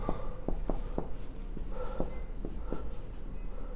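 Pen or chalk writing out a math solution in a ninth-tenth grade algebra lesson, with quick repeated scratchy strokes and taps in an uneven rhythm, close and steady throughout.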